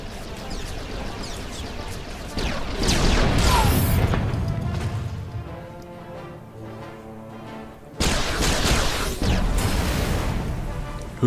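Booming Star Wars: The Old Republic gunfire and crashing impacts come in loud bursts, fading to a quieter rumble before another heavy blast hits.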